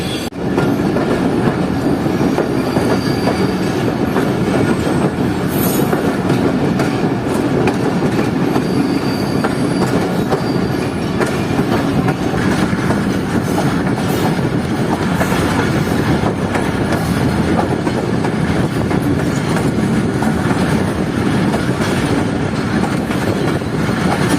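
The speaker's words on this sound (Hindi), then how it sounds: "सक्खर एक्सप्रेस जैकबाबाद और कराची के दरमियान चलने वाली एक रेगुलर पैसेंजर ट्रेन है" Sukkur Express passenger train running between Jacobabad and Karachi, heard from onboard: a loud, steady rumble of carriages with continuous clickety-clack of wheels on rail joints and occasional faint wheel squeal, no talk.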